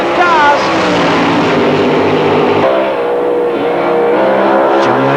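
Two drag racing cars launch hard off the line with wheel stands, engines roaring loud and close in a sustained, rising blare.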